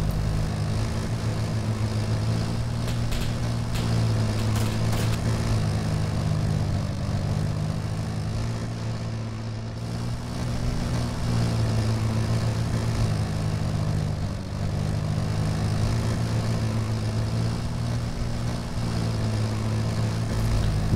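A BMP-1 infantria fighting vehicle in the video game Arma 3 runs its engine with a steady, droning low rumble and hum that holds evenly throughout, close and continuous with no voices.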